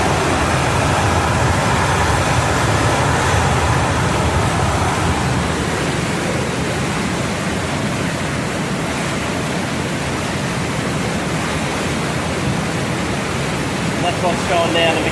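Floodwater after Cyclone Alfred rushing through a creek fed from the Albany Forest area, a steady loud broadband roar that holds throughout, with faint talking underneath.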